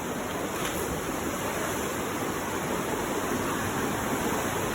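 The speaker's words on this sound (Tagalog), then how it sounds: "Ayan yung Kapitan Falls." Kapitan Falls, a waterfall over rocks in Calbayog, gives a steady, dense roar of rushing water with no breaks, nearby and fairly loud.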